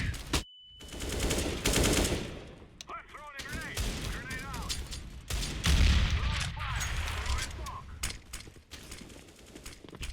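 Shotgun fire in a video game, with the Mag-7 in use, sounding as loud, close blasts in quick bursts amid other gunfire, with voices talking over the action.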